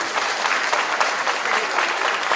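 An audience at a 2016 mayoral candidates' debate in Mendes bursts into steady, dense applause for a candidate, with clapping close and continuous for a couple of seconds.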